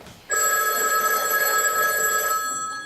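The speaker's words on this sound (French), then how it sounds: "Ah, le téléphone de le matin." A telephone bell rings loudly and steadily for more than two seconds on a theatre stage during an amateur association's performance, then stops abruptly, with no voices over it.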